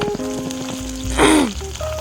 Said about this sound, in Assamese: আৰু এইফালে গোটেইখিনি মাছ মোটামুটি ভজা হৈ গ'ল